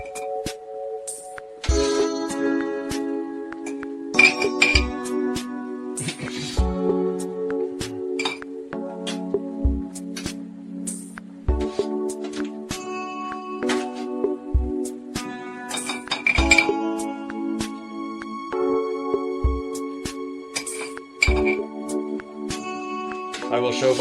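Glass clinks and taps rhythmically as soft mushrooms are packed into a glass jar for pickling. Sharp, bright strikes repeat every couple of seconds over a sustained musical tone, and a voice speaks throughout.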